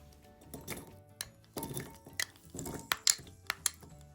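A spoon clinks and scrapes against a cooking pan while stirring chopped potatoes in hot oil, giving a series of sharp metallic taps and soft scrapes close by in a quiet kitchen.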